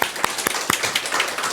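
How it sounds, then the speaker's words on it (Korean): A small church congregation at a Sunday service claps to welcome back a returning member, a short burst of irregular hand claps that is close and fairly loud. "우리 박수 한번 쳐드릴까요?"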